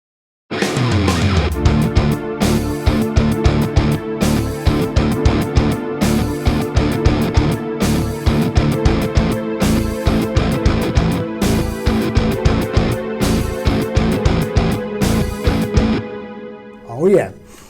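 Distorted metal guitar plays a 6/8 groove broken by rests, hitting tight chugging notes in a repeating stop-start pattern, loud and alone, before ringing out with a short final accent.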